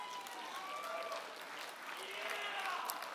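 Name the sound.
audience applauding race finishers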